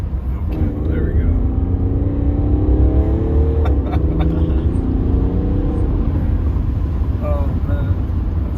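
A diesel BMW 3 Series accelerates hard from inside the cabin, a loud, deep engine drone rising in pitch through the gears with a shift midway, steady road rumble underneath.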